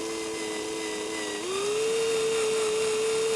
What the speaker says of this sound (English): you can just use a simple hand drill for doing this